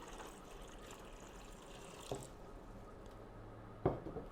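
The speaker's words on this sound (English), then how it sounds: "Just pour the water in here." Water poured into the reservoir of a Euhomy portable ice maker, a soft steady trickle with a couple of small splashes and clunks near the end.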